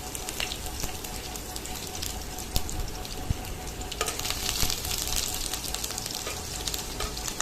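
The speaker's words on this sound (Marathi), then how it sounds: "बारीक कापलेले कांदे थोडंसं छान लालसर होऊ द्यायचे आहे" Finely chopped onions sizzling in hot oil with mustard seeds for a small tomato, chili and coriander chutney, a steady loud frying hiss with occasional stirring clicks, close up and without speech.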